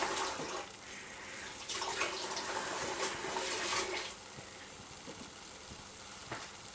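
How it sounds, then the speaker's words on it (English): Water poured from a container into a pan of homemade ragu sauce, a close, steady rushing stream for about four seconds that then drops to a quieter bubbling background with small splashes. "I'm going to add just a touch of water to this to thin it down just a little bit"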